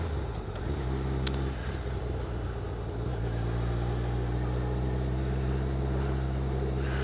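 Idling car engines in a queue of backed-up town traffic near a hotel, where a roundabout was replaced by traffic lights; a steady low rumble of motors fills the scene, continuous and moderately close, with no talk.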